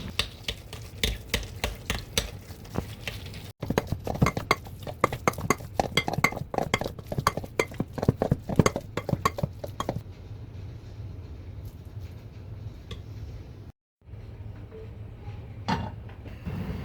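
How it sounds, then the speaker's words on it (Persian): A potato cutlet mixture is stirred hard in a bowl, giving rapid clinking and scraping strokes over a steady low hum. The stirring eases after about ten seconds, drops out briefly, then returns softly. "مواد رو حسابی هم میزنین تا خوب با هم دیگه ترکیب بشه"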